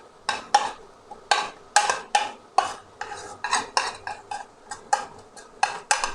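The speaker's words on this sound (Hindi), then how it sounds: "अब जाएगा इसमें ये जो प्याज हमने फ्राई किया था" A spoon clatters against a cooking pan in quick, regular clinks and scrapes as fried onions go into chicken bhindi with green chillies, close and clear with no talking.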